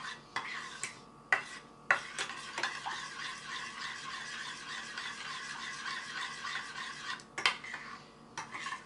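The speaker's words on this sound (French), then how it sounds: "ensuite on mélange bien. Jusqu'à ce que l'huile de coco fonde." A spoon stirring golden milk made with almond milk and coconut oil in a pot: quiet scraping and clinking, with a few sharp metallic taps near the start and end, and no talk.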